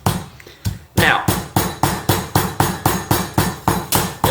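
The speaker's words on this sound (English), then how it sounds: "there are two actions that we can use with our mortar and pestle" Pestle pounding spices and herbs with coarse salt in a mortar, a steady series of about a dozen sharp, evenly spaced thuds, close and loud, with no talk.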